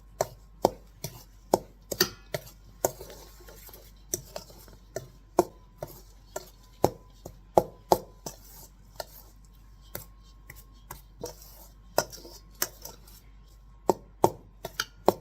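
A stuffed mushroom filling is mixed in a bowl, producing a steady run of sharp, close taps and knocks against the bowl that repeat at a loose, even pace with no voice.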